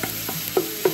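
Ground meat for Bolognese cooks down in a pan until its liquid is gone, a soft steady sizzle broken by a few sharp spoon taps and scrapes against the pan.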